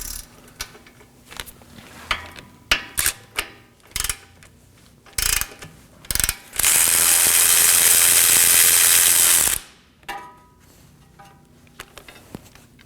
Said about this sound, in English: So I'm going to hold this side with a wrench